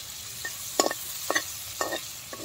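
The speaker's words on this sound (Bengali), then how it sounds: "ভালো করে এইভাবে আমটাকে কষিয়ে নিতে হবে।" Raw mango chutney being stir-fried in a Bengali kitchen, a low sizzle under several sharp scraping stirs of a spatula against the pan at irregular intervals, close and clear.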